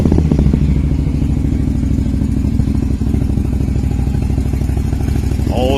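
Can-Am Maverick Sport XMR side-by-side idling with its exhaust running, a loud, steady, low rumbling thump with rapid regular pulses that carries on without a break, close up and with no talk.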